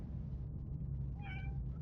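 A cat gives a single short, faint meow near the end, set against a steady low background hum.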